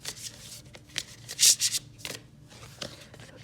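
Affirmation cards are shuffled by hand in quick, close bursts of papery riffling and flicking, with one louder flurry in the middle, quiet and alone.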